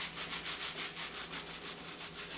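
Dried homegrown sage leaves rubbed between the hands, giving a steady, rhythmic papery rustle with soft repeated strokes, close and quiet with no talking.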